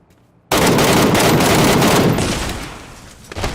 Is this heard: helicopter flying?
no